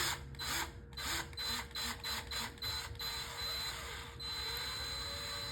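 A small drill whirs against a broken toy helicopter in short repeated bursts, with a steady high-pitched whine underneath. The sound is close and continuous, and nobody speaks.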